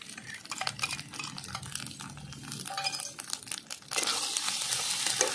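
Ginger, cumin, garlic and green chili pastes are stirred in a pan, a spoon scraping and rustling through the sizzling masala in uneven bursts, turning into a louder steady frying hiss toward the end.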